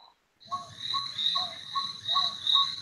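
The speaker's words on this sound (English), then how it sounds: "There goes Lou with his crickets." A chorus of cricket-like chirps played by Lou at a late-night hangout, repeating steadily in rhythmic bursts with a croaky, froglike quality, fairly close and continuous under a soft background.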